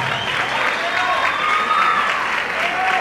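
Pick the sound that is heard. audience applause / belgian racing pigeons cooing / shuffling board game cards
audience applause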